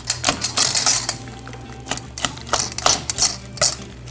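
Quick, uneven knife taps on a cutting board as peaches are chopped fine for peach jam, sharp clicky strikes in bursts, close and fairly loud, with no talking.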